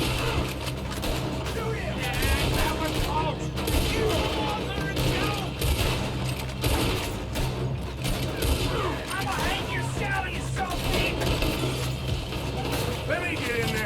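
A Red Dead Redemption 2 shootout with repeated gunshots crackling through dense game sound, voices and mechanical noise running underneath.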